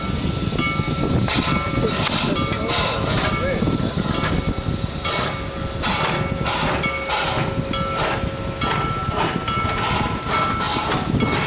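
A train passes close by with a loud, continuous rumble, hiss and rhythmic rail clatter, and faint voices sit underneath.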